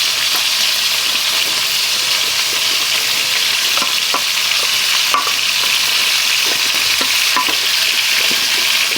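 Onion and bacon fry in a pan on high heat, a steady loud sizzle running throughout with faint scrapes and stirring clicks as the pan is moved.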